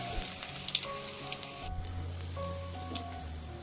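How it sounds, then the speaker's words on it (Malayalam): A semolina-coated iftar snack fries in hot oil with a steady, close sizzle sprinkled with small popping crackles throughout. "എന്നിട്ട് ചൂടായ എണ്ണയിലിട്ട് ഇങ്ങനെ പൊരിച്ചെടുക്കുക"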